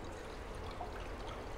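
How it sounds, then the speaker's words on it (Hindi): Water pours steadily into a frying pan set on a lit gas stove, a soft continuous trickle with no talk, at the start of making besan boondi sugar syrup. "अभी हम इसमें डालेंगे पानी।"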